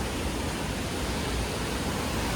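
A steady, dense roar of Napne waterfall in Vaibhavwadi, Maharashtra, fills the whole clip, broad and unbroken, with no voices.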